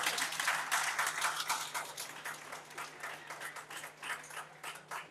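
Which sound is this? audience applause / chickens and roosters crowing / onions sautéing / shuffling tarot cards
audience applause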